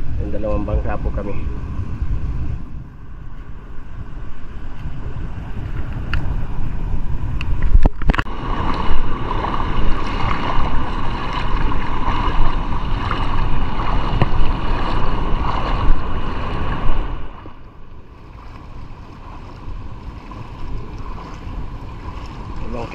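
A small bangka boat at sea gives a steady, rumbling drone that continues throughout, with voices heard now and then.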